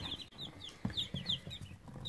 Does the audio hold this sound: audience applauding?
no